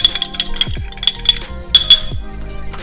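A fork rapidly beats egg with a pinch of salt in a bowl for an egg wash, bright clinking taps in quick irregular bursts, close and fairly loud, with no talking.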